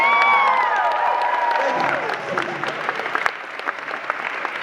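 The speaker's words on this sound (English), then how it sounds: "Give her a round of applause." A convention panel crowd gives a loud, continuous round of applause for a guest, with cheers and whoops mixed into the clapping before it gradually thins.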